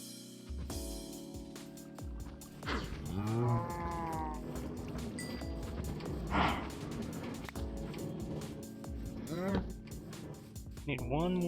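Minecraft cows moo several times in a hardcore survival game, drawn-out bovine calls sounding near and clear over steady game ambience, with a person talking in between.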